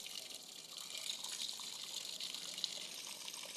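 Water pours from a container onto garden soil while a plant is watered, making a steady, soft, hissing splash that runs without a break, with no talk.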